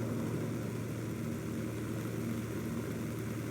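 A B-25 Mitchell in a flight game, propeller engines droning steadily on approach to land with throttle being cut, a continuous hum with no other sounds.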